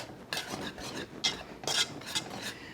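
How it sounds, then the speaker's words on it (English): Chocolate being stirred into thick brownie batter, a series of close scraping, rubbing strokes of a spoon or spatula against a bowl, in an uneven rhythm with no voices. "now that I'm stirring in all this chocolate"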